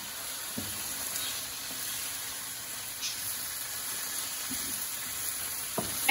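Sausage and rice stuffed pepper filling sizzles in a hot pan while a spoon stirs it, giving a steady close frying hiss with occasional scraping knocks.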